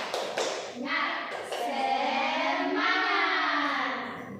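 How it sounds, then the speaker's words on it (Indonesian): A classroom of adults claps a rhythmic Indonesian spirit clap for a primary school science lesson, a burst of quick claps that gives way to sustained voices talking over it. "Baiklah, tepuk semangat."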